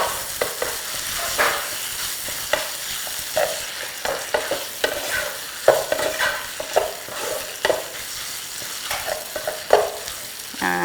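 Spaghetti with sausage and onion being stir-fried in a pan, with repeated spatula scrapes and clatters over a steady background sizzle, close and moderately loud, no talking.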